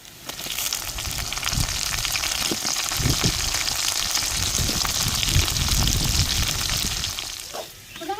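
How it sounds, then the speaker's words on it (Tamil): Chopped onion, tomato and brinjal frying in oil in a pan, a loud, dense sizzle and spatter that runs continuously and close, easing off briefly near the end before picking up again. "நம்ம வெட்டி வச்ச தக்காளியும் கத்திரிக்காயும் இந்த எண்ணெயிலே வதக்கி எடுத்துக்கிறோங்க"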